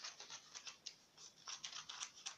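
Scissors snipping around a paper picture cut from a book, a rapid series of short crisp cuts close by, no talking.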